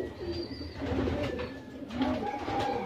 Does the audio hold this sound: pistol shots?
no